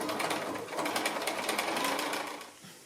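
A sewing machine stitches quilt block corners along a diagonal line, running steadily and fairly softly with a fast, even mechanical patter that eases off near the end.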